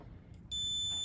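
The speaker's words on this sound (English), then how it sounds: "You got a beep there, so that's good." A multimeter on continuity mode beeps while its probes test compressor windings, common to run on the red wire: a steady, loud, high electronic tone begins midway and holds to the end.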